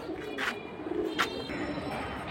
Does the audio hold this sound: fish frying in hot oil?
no